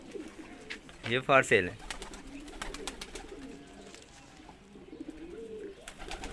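Soft cooing from Shirazi pigeons, including red and black birds, kept in a breeding setup rises briefly near the start. It is otherwise low and intermittent under close conversational talk.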